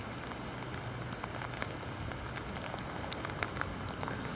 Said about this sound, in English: it seems like it's just gonna be a constant shitty rain